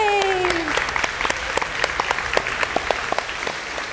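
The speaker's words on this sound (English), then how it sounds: "And that applause, extremely well-deserved" A studio audience at a children's hospital telethon breaks into steady, close applause with dense clapping, and a brief voice can be heard at the start.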